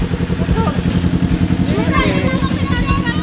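A Kawasaki Ninja 400 motorcycle idles close by with a steady, even engine throb, while several people talk and exclaim excitedly over it throughout.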